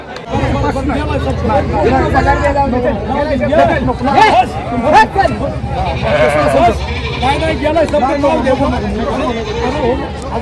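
Goats bleat repeatedly amid the busy hubbub of a livestock market in Lonand, with many people talking and chattering nearby throughout.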